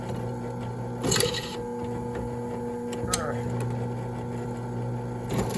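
Drill press boring holes through a knife handle in a workshop, a steady motor hum with faint tonal whine throughout and brief louder bursts as the bit bites, heard alone without talk.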